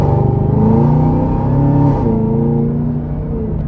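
A 2024 Chevrolet Camaro ZL1 Convertible engine in track mode revs loudly up close, a deep rising growl that climbs, dips briefly, then pulls again.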